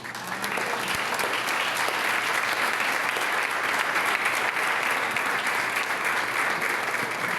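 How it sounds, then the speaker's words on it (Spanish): A church congregation applauds their pastor with loud, sustained clapping that fills the room evenly from start to finish, with no break in the dense applause. "Bendecimos a la vida de nuestro pastor con un aplauso."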